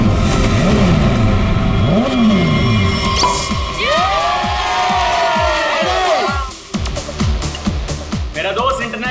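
Motorbikes rev and roar past in a race, engine pitch rising and falling in repeated passes while a crowd cheers and shouts loudly over them, ending in a brief lull and scattered noise.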